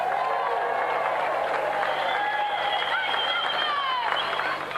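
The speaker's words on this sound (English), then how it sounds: "let's have another round of applause for our gallant competitor" A studio audience on a games show gives sustained applause and some cheering for competitor Jamie Spencer, a continuous, even wash of clapping with excited voices and a few whistles over it.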